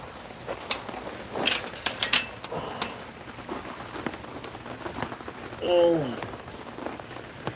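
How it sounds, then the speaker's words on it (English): Steady rain patters on a surface outdoors at a dog breeding kennel, a continuous wash of drops with a few sharper clatters, while someone speaks briefly and a dog gives a short whine near the end. "it's raining."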